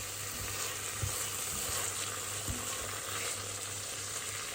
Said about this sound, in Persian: حواستون باشه حتما رب باید با حرارت ملایم سرخ بشه